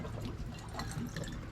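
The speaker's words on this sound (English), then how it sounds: "you break out your bottle of Kraken and you pour over ice" Kraken rum pours over ice in a glass aboard a boat, a short steady liquid stream trickling and splashing close by with no talk.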